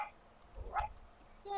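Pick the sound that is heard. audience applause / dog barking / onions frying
dog barking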